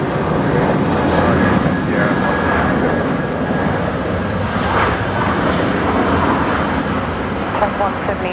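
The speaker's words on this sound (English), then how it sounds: "The Jetstar 321 CO touching down." A Jetstar A321 airliner lands at Brisbane Airport at night, its engines a broad, steady roar heard from a distance that holds for several seconds, blended with faint background traffic hum.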